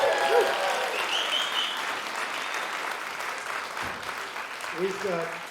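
An audience at a tribute concert applauds steadily, a dense wash of clapping from a crowd, with a few faint voices and whoops mixed in.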